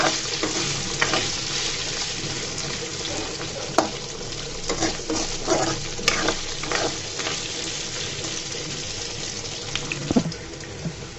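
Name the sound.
potatoes frying in hot oil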